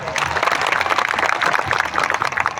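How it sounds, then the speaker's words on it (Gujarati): Crowd at an outdoor political rally applauding steadily, dense clapping sustained throughout at moderate loudness with faint voices mixed in. "આનંદભાઈ પટેલ સાહેબ માટે જોરદાર તાળીઓ પાડી લઈએ"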